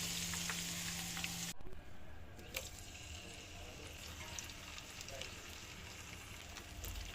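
Chicken pieces and potatoes frying together in a pan, a steady close sizzle with hiss that drops back sharply partway through, then continues more softly with faint clinks.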